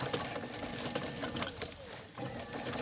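An elf garland machine runs steadily as its wheel turns, making a continuous close mechanical whirring and clattering that holds an even, unbroken rhythm throughout.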